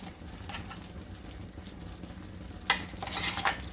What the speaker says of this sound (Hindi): अब मैं डालने लगी हूँ छुहारे पिसे हुए, ये जो पेस्ट बनी हुई है।